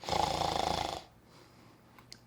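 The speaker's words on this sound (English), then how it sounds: "Tansy's mum began to snore loudly." A ewe in a sheep barn snores loudly once, a single drawn-out, rasping breath lasting about a second, followed by near silence with a faint soft click.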